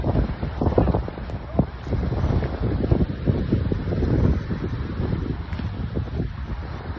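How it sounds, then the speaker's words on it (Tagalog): Heavy surf rumbles and crashes at White Island, Occidental Mindoro, with strong wind buffeting the microphone, while a person talks over the roar. "Lakas ng alon, no?"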